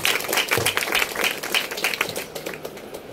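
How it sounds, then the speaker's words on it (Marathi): An audience applauding, dense steady clapping that thins out slightly toward the end, moderately loud. "तर शिल्पासाठी एकदा जोरदार टाळ्या वाजवूया."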